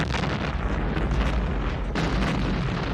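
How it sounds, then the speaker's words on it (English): Huge factory explosion set off by a lit oil drum in the animated film 9 (2009), a dense roaring blast that rumbles continuously and swells again with a second burst near the end, loud with no voices. "roll a lit oil drum into the factory, blowing it up and killing all the robots in there"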